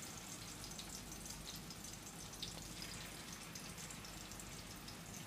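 Chicken patties frying in a pan give a faint, even crackling sizzle that runs steadily throughout with no talking.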